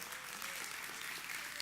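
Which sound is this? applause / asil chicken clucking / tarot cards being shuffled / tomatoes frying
applause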